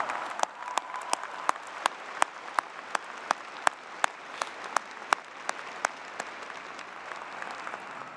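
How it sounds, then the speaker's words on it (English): Applause from a graduation ceremony crowd at Clemson, a steady, fairly soft wash of clapping across a large hall with occasional sharper individual claps standing out, continuing without any voices. "I think we owe you a very loud round of applause"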